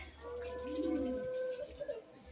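Pigeons at a home loft give a clear, close, resonant coo lasting about a second, followed by softer murmuring, with faint voices nearby.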